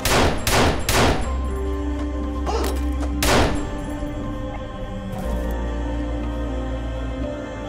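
Pistol gunshots in an action film: a handful of sharp, loud cracks, some in a quick pair, then a single heavy shot, ringing over a low droning score that continues after the firing stops.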